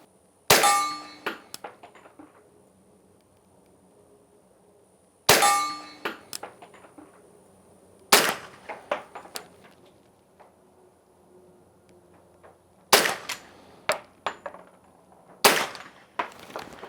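An HK45 Tactical pistol fires Winchester 230-grain hollow points at a range in several short strings of loud, sharp cracks. Each string is followed by ringing metallic clangs, with quiet pauses between strings.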